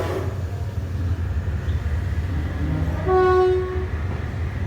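Thai passenger train 258, Nam Tok to Thonburi, runs between stations with a steady low rumble of the cars, and a loud horn blast sounds partway through.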